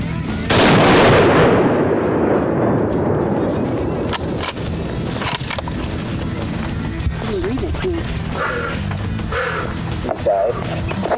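A loud rifle shot during a Utah mule deer hunt booms at the start and rolls away in a long outdoor echo, followed by rustling and movement in the open terrain.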